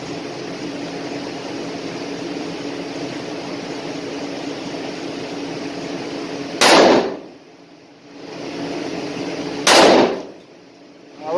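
Two sharp, loud revolver shots fired with 135 grain Critical Duty ammunition at an outdoor range about three seconds apart, each a sudden blast cutting through a steady background hum.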